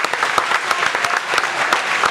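An audience claps steadily at a bluegrass workshop at Delfest in Cumberland, Maryland, with dense, even applause at close range throughout.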